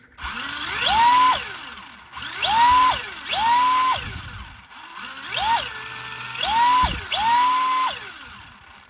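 A Hobbywing XR10 Pro G3 ESC and motor in an RC car whines up in pitch and back down in repeated bursts, about six revving pulses, loud and close with no talking.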